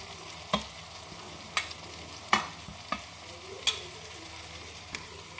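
Mashed boiled potatoes and coriander leaves being mixed in a pan, with sharp scraping knocks of a spoon at irregular intervals, about six strokes over a faint background sizzle.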